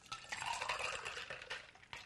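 A minty green Around the World mixed drink is poured into a glass, giving a short, steady splashing pour with light clinks of glass and ice close by.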